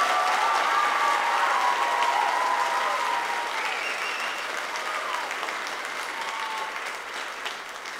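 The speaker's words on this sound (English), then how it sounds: "One more round of applause" A crowd applauds after a high school choir performance at Owen Valley High School, with thick, continuous clapping that starts full and slowly tapers off over eight seconds.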